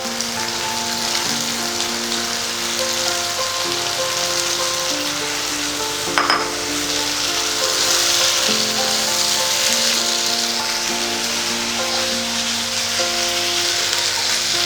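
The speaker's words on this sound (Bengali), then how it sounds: "এবার আমি কুচি করে রাখা টমেটোগুলো দিয়ে দেবো।" Chopped tomatoes sizzle in a pan for a thin Bengali fish curry with potatoes: a loud, steady frying hiss with one brief utensil clatter midway, while a melodic tune plays softly underneath.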